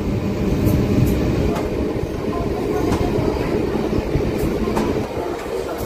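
A train runs through Vinukonda station with a loud, continuous rumble and faint rhythmic wheel clatter, close by and steady throughout.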